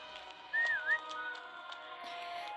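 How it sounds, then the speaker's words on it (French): A person whistles to call a horse, a short bright rising-and-falling whistle, loud and close, over a faint outdoor background with no talking. "Donc là, je l'ai sifflé"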